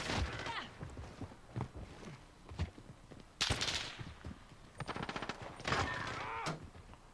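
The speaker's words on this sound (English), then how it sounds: "Hey, quit shooting at me." Video game gunfire crackles in scattered bursts of sharp shots, some quick rapid runs and a few louder blasts, with players talking over the action.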